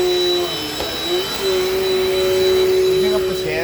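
A Dirt Devil Dynamite Plus vacuum cleaner runs with a steady, loud motor whine and airflow roar that holds throughout, close by and without a break.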